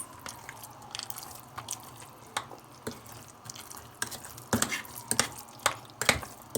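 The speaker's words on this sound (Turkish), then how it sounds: "bir tatlı kaşığı da tuzumuzu katıp bir güzel karıştırıyoruz" A spoon stirs tarhana soup mixture with flour and a dessert spoon of salt, giving quiet wet scraping and dripping clicks in an irregular rhythm, close and soft with no talk.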